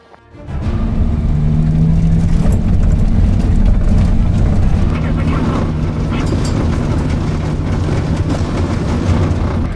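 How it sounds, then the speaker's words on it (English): A vehicle on the Rust 2 The Sahara rally drives over corrugated desert ground, a loud, steady rumbling drone with constant rattling vibration that carries throughout without a break. "we're driving over that corrugated floor"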